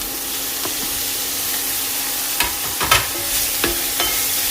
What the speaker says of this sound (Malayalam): അതിലേക്ക് അരിഞ്ഞു വെച്ചിരിക്കുന്ന തക്കാളി ചേർക്കാം.